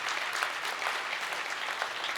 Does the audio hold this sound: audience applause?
yes